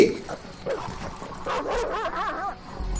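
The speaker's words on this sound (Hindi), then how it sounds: "बाइक नीचे गिरते ही सारी जंगली कुत्ते यश को देख लेते हैं।" Wild dogs bark and yip in short, excited bursts at middle distance, their calls overlapping, with some whimpering and background commotion mixed in.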